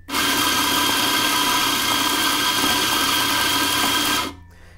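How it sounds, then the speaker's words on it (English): A coffee grinder grinds Counterculture Fast Forward beans in one continuous loud, close whir lasting about four seconds, then cuts off abruptly. "This grinder has that pause feature where you can pause it to shake it down."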